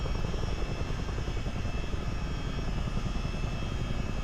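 A CH-47D Chinook tandem-rotor helicopter in a flight-simulator game cruises with a steady, dense rotor and turbine drone, constant and fairly quiet with no voices over it.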